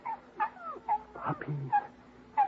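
A litter of six puppies whimper and yelp close by in a series of short, high, wavering cries, several overlapping in quick succession.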